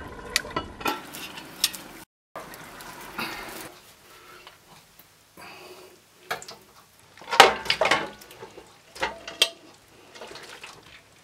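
A pot of Thracian kavourmas, slow-cooked meat, being covered and taken off the heat, heard as close clinks and scrapes of pot and lid with faint sizzling, broken by brief pauses.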